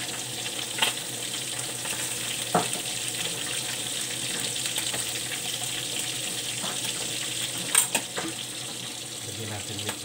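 Bullet tuna (tulingan) frying in hot oil gives a steady, fairly quiet crackling sizzle that holds through the whole stretch, with a few sharper pops and clinks of handling and no voices over it.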